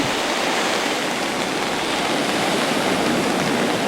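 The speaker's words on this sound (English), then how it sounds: "the tide coming in, the storm's coming up, the waves are beginning" Steady, dense roar of incoming surf on Indian Rocks Beach, Florida, as the tide rises ahead of Hurricane Hermine in August 2016, a continuous broadband wash of waves with no distinct breaks and no voices.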